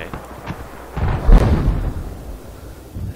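An explosion in Battlefield 4: a deep rumbling blast swells near the middle and fades slowly, preceded by faint gunshot pops and followed by distant battle noise.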